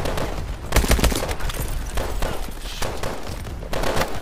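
Heavy suppressing gunfire in the video game Call of Duty Advanced Warfare: dense, overlapping shots and thuds in a chaotic, continuous barrage.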